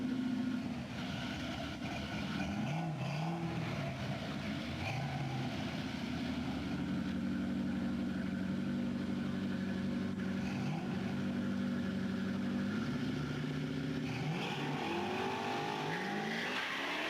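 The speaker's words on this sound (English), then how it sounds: "You hear him spin off the line too there." Drag racing car at a street-car racing competition with Mustangs, Camaros, Corvettes and a twin-turbo BMW, engine roaring and revving as tires spin off the line, continuous loud drone with rising and falling pitch sweeps, no talk.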